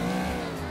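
A car in GTA 4 drives with a continuous engine drone and road noise, steady and fairly close for a brief moment.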